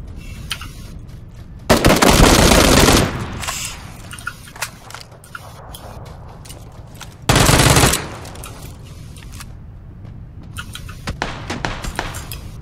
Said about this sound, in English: Kind of suppressing fire for you up here.